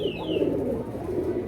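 Pigeons coo close by, soft throaty rolling calls layered over each other, with a thin higher chirp at the start.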